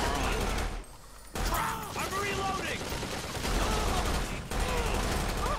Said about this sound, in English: I'm getting shot at somehow